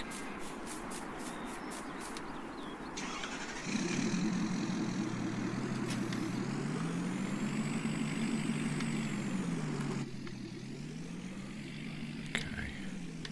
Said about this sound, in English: let's grab the truck